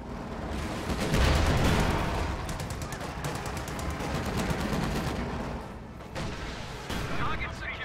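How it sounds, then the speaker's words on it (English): Rocket launcher rounds striking a Sherman tank in a real-time strategy battle game: sustained rumbling explosions and impact crashes with dense gunfire, loud and continuous, with a stronger burst near the start and another late. "Rakettenwerfer connects with the Sherman twice"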